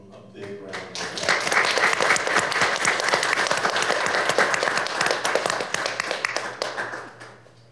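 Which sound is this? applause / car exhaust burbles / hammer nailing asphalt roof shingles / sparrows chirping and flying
applause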